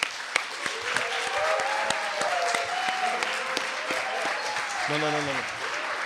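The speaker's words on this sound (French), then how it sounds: "beaucoup d'applaudissements pour Oratoire HNS" A crowd at the grand final of a French public-pleading championship gives a debate team sustained, even applause. A presenter talks over the clapping, and a few sharper claps stand out.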